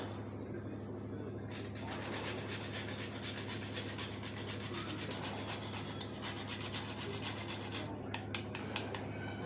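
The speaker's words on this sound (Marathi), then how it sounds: "आपण ह्याच्यात जायफळ किसूया" Whole nutmeg grated by hand into a cooled turmeric and halim-seed ladoo mixture with coconut, giving a steady, continuous dry rasping scrape close up for several seconds, with no talking.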